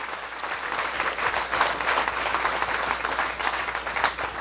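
Guests at a Christian wedding ceremony break into warm applause, a thick wash of many hands clapping that swells slightly and stays strong throughout.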